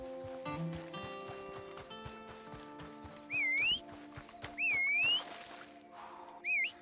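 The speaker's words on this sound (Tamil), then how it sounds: "என் குதிரை கீழே வர முடியாம மேலே ஏத்திக்கிட்டு இருக்கு" Horse sounds in Red Dead Redemption 2, the horse climbing uphill and struggling to come down, with clip-clopping hooves and several short rising whinny-like calls over layered game ambience.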